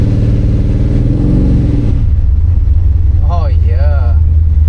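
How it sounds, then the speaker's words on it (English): A 1979 Chevrolet El Camino with a new torque converter revs loudly in a steady mid-pitched rumble for about two seconds, then settles to a lower idle drone while a voice exclaims briefly over it. "I'm gonna take this El Camino off the jack stands right now and go for a test drive"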